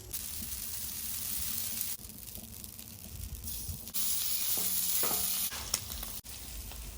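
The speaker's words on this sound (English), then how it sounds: "Cook the Italian sausage." Italian sausage fries on a Blackstone griddle, a dense close sizzle and hiss with occasional scraping and spatula clinks that shift in intensity.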